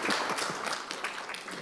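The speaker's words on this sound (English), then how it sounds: "Please applause." Audience at a global health preparedness event applauding, a dense, steady wash of many hands clapping close up and fairly loud throughout.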